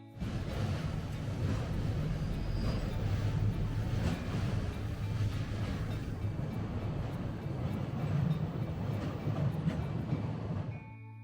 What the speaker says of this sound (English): I did spot a JR Freight Class EF210 hauling a bunch of cargo